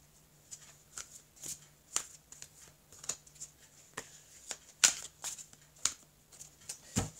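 Tarot cards are cut and handled in a quiet room: a run of crisp, papery snaps and riffles at an uneven rhythm, close and fairly soft, with a faint steady hum underneath and no talk.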